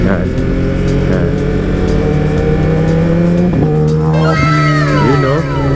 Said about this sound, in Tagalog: Mga tunog inline 4 sa likod ata natin.